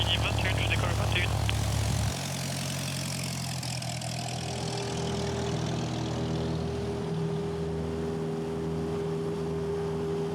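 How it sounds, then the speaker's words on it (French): A small propeller airplane over the Durance valley in the French Alps, its engine droning steadily close by and holding a sustained tone after a brief shift in pitch. "Déclaration qui t'envoie ligne 21, je décolle 21."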